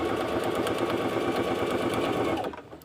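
Sewing machine running steadily while stitching the seam of a boxy bag, a continuous close, loud whirring drone that cuts off near the end.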